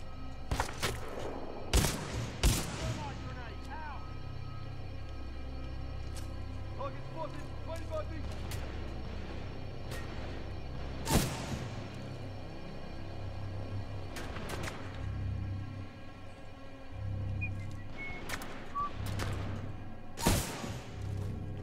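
Sporadic gunshots in the shooter game Titanfall 2, a few sharp isolated cracks spaced seconds apart over a low rumbling game background, with someone talking between them.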